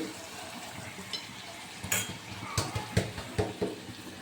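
Radish greens with spices being stirred in a pan, soft sizzling under several distinct scrapes and clinks of a utensil against the pan, close and moderately loud.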